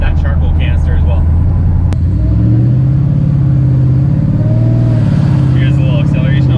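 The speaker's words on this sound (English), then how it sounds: "Here's a little acceleration off the light, nothing crazy, but just so you can see it run through the gears, or hear it run through the gears" A supercharged 426 HEMI Dodge Dakota pulls away from a light, its engine note rising and falling as it shifts up through the gears, heard loud and close from inside the cab.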